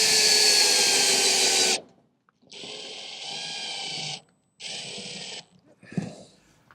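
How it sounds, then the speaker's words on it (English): A power tool driving special bolts into a metal panel on an old farm gate, three separate loud whirring bursts with short pauses between them, ending in a clunk. "now we can bolt it down with these special bolts"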